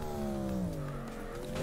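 A C8 Corvette's engine revs in CarX Drift Racing while drifting, a steady, sliding tone shifting in pitch throughout, heard alone without talk.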